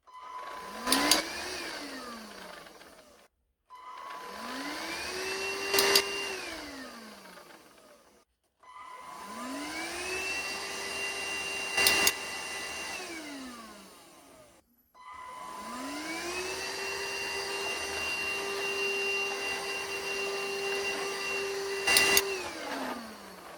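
A household vacuum cleaner is switched on and off four times, each run starting with a rising whine that holds steady before winding down, with short gaps between runs and longer runs later, all heard at moderate distance without talking.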